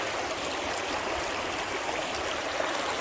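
A running stream flows steadily outdoors, a continuous close rush and babble of water with no voices over it.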